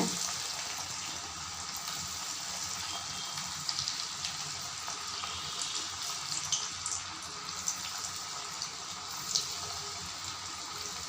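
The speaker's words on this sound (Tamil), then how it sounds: "இப்போ பக்கோடாவாக போட்டுடலாம் எண்ணெயில்" Rathasaali rice pakoda sizzles in hot oil, a steady broadband frying hiss with small crackles near and constant throughout, and no talk.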